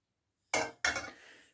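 Two quick metallic clinks of a spoon against a cooking pot holding granulated instant coffee and sugar, close and crisp, the second ringing out briefly before fading.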